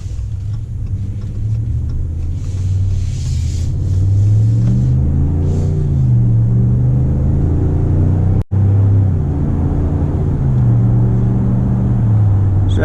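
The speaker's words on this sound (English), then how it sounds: "the engine's not short shifting. It really does a great job of going down the road" A 2019 RAM 1500 Big Horn pickup truck drives along the road, its engine a loud, steady low rumble from inside the cab, rising and falling through smooth gear shifts, with one brief dropout partway through.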